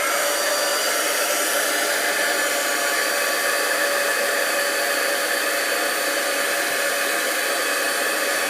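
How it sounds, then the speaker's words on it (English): A heat gun blows a steady, even whoosh of hot air close by while melting embossing powder on a card, unbroken throughout with no talking. "So now I'm going to start to heat it."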